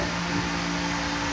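A Lava electric fan runs steadily at close range, a constant broadband whoosh of moving air with a faint motor hum and no pauses.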